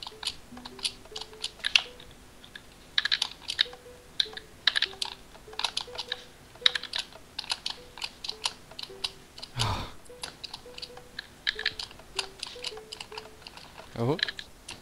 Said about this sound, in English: All I can hear is you mashing your keyboard.